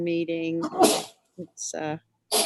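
A single sharp sneeze bursts out mid-sentence during an online parks, trails and greenways advisory committee meeting on Zoom, with people talking before and after it.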